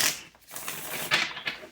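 Tarot cards being shuffled, a short burst of crisp riffling and flicking with a brief pause midway, close and fairly loud.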